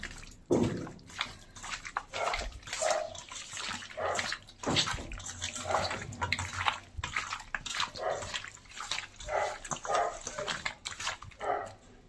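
Chicken pieces are kneaded and mixed by hand with ginger-garlic paste and lime juice, giving wet, squelching, slapping sounds in a steady uneven rhythm, close and fairly loud.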